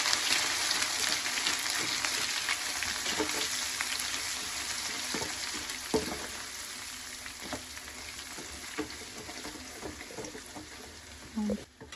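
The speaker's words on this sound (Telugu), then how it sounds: "ఇది బాగా ఫ్రై చేసుకోవాలండి, లేదంటే పచ్చివాసన అలాగే ఉంటుంది అనమాట." Homemade ginger garlic paste sizzles and fries steadily in hot oil, with occasional stirring clinks and a faint voice in the background.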